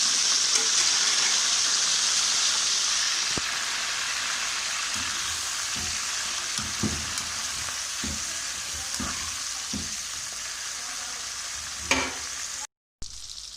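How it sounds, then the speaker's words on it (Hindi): Green chillies frying in hot oil in a pan after okra, a steady loud sizzle throughout, with occasional soft stirring clicks and knocks breaking through near the end. "अब इसमें हम हरी मिर्च फ्राई कर लेंगे।"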